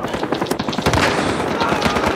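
A SPAS-12 shotgun fires in Battlefield Hardline, a fast string of loud booming shots packed close together amid continuous gameplay noise.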